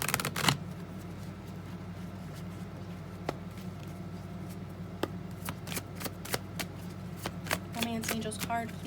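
Angel oracle cards shuffled for a reading, a run of crisp riffling flicks and taps heard close, with a voice speaking at times.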